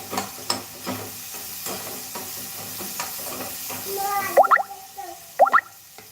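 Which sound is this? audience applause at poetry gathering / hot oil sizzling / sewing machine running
hot oil sizzling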